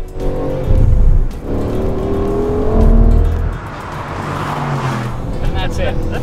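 An Aston Martin Vantage at speed on the Montreal Grand Prix circuit, its engine a loud, steady roar with shifting pitch, heard from inside the car while someone talks over it throughout.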